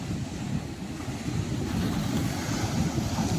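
Sea water surging and spraying up beside Ratneshwar Mahadev temple, a steady loud rushing roar with gusty wind noise and no voices.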